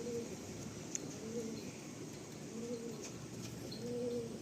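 Pigeons coo softly in a series of repeated, rolling low calls at a breeder's loft, fairly close but quiet, with faint background noise.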